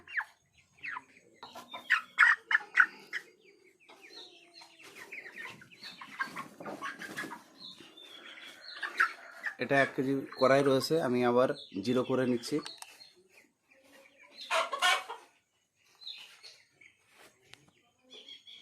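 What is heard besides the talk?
chickens clucking while being weighed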